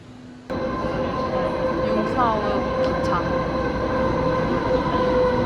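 A train bound for the Jungfrau in Switzerland starts up with a sudden loud onset and settles into a steady rumble with brief squealing tones, running continuously under voices talking.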